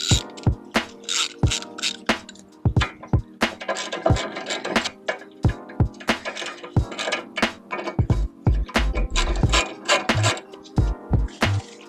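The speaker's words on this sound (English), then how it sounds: "try and get enough torque on them with a ratchet so that when I forget they won't fall off" A hand ratchet tightens the wheel bolts on a car's front wheel after disc work: rapid, close clicking in repeated bursts with brief pauses, loud and alone.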